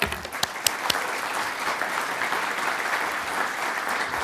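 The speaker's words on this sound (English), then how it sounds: "we should give them a round of applause" An audience applauds for men in suits at the Launch Oregon announcement, a steady dense round of clapping filling the room for about four seconds, with a few sharper individual claps near the start.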